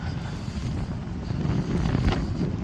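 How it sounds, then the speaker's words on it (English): Steady warm wind roars and buffets against the microphone outdoors at Graceland, a low continuous rumble with no voices. "it's windy, but the wind's really warm as well"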